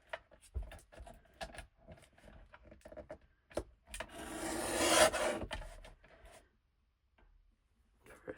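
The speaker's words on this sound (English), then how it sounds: "I'm just going to use the cutter to cut off this excess over here" A cutter trimming excess paper off a dressed envelope: scattered soft ticks and scrapes, then one sustained rasping cut lasting a couple of seconds, heard close and quiet before it falls silent.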